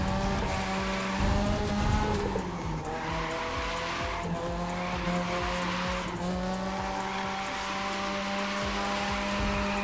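Lamborghini, Nissan and Mazda cars drift in The Crew 2 racing game, engines revving loudly with sustained tire squeal and skidding across the whole stretch, pitch rising and falling through gear changes.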